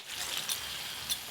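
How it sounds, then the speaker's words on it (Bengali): Water poured into a cooking pot for boiling vegetables in a village kitchen, a continuous hissing trickle with a couple of brief splashy accents, fairly soft and steady throughout. "এবার জল ঢেলে সেদ্ধ করে নেব"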